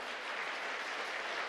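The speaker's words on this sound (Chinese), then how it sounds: "来拍手欢迎罗志明弟兄" A congregation at a Sunday church service claps to welcome a guest speaker, a dense, steady wash of applause filling the room without letup.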